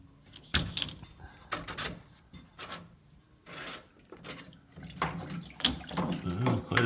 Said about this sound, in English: Quite a bit of water coming out of that.